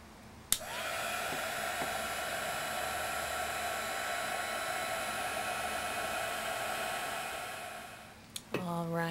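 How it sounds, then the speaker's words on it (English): A heat embossing tool blows a steady, loud, whirring hiss of hot air over embossing powder on stamped ink for about eight seconds, then cuts off with a click. "then we're going to go ahead and emboss it"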